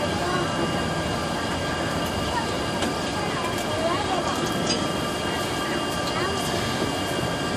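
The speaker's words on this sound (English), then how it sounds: "I really hope this train can make it up to the top of the hill." Steady rumble of a small zoo train climbing a hill, with rattling and mechanical drone throughout and faint talk underneath.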